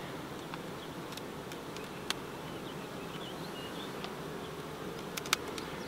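Honeybees in a beehive make a soft, continuous buzzing hum that holds steady throughout, with a few faint higher chirps and ticks scattered over it and no talking.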